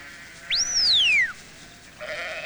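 A single sheep bleats once, a clear rising-then-falling call lasting under a second over a quiet outdoor background, with a faint higher hiss afterward.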